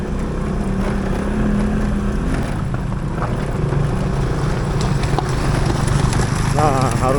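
Motorcycle engine straining steadily on a rocky, slippery forest road with sharp bends in southern Banten, a continuous low drone with wind buffeting the microphone throughout.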